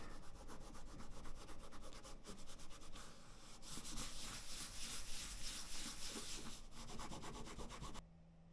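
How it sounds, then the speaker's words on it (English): Charred edges of a laser-cut wallet are polished by hand, giving a steady, close rubbing and scrubbing sound with rhythmic strokes that continues for several seconds before stopping abruptly. "we're just going to polish it up, and that should get rid of any of those marks"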